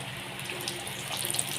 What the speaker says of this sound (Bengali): এইভাবে আমি এটাকে ভেজে নেব।